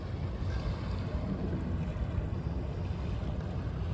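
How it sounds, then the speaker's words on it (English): Wind and lapping water on the River Thames foreshore at Greenwich, a steady low rumbling wash with gusty microphone buffeting, continuous and fairly quiet. "Here we are at the Greenwich Thames foreshore."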